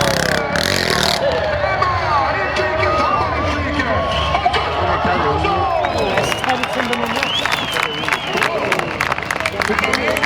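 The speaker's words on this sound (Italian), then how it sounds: "iniziamo a rumoreggiare il brusio della folla" Crowd noise at a motorcycle party in Clusone, Italy: a dense, loud babble of many voices with shouts and scattered clapping, continuous throughout and swelling toward the end.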